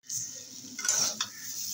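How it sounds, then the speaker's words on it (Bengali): Turmeric and Kashmiri red chili powder sautéing in a pan, a steady close sizzle with a couple of brief scraping stirs, no voices. "হলুদ আর কাশ্মীরি লাল লঙ্কার গুঁড়ো। আর 2 মিনিটের মতো একটু কষে নেব।"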